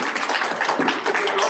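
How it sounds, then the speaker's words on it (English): An audience at a research centre meeting claps, a dense, even patter of many hands filling the whole short stretch with no voices. "Give him a clap."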